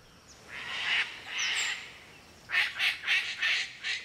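A mysterious large parrot squawks in an Australian rainforest, first two drawn-out harsh calls and then a quick series of five or six rhythmic squawks, clear and fairly close over a soft forest background.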